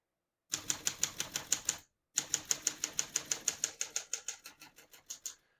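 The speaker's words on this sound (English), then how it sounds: "We're going to keep that on single for now and finish typing." Crisp typing on a 1939 Corona Standard portable typewriter: a short run of keystrokes, a pause, then a longer burst whose rhythm slows and thins toward the end, heard alone at close range.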